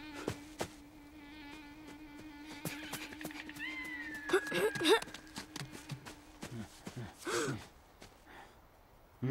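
Cat meows amid an animated adventure scene, a few short mewing cries rising over busy background sound effects and scattered clatter, with no clear speech.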